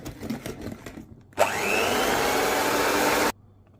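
An electric hand mixer whisks cake batter with flour for a marble chocolate-chip cake, whirring loudly and steadily for about two seconds after some clinking and scraping, then stopping abruptly.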